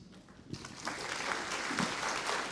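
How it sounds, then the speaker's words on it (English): Applause at a seminar for the speaker Amanda, starting softly and swelling into steady clapping across the room. "An applause for Miss Amanda."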